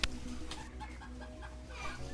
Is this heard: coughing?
no